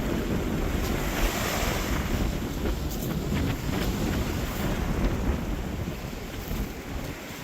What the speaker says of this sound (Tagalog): Ayan ang dagat. Dagat ng playa.